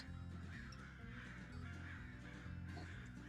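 Crows caw in a tabletop RPG scene, several harsh repeated calls layered over a droning ambient music bed, moderately loud throughout.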